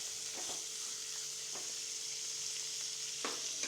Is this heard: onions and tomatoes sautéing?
yes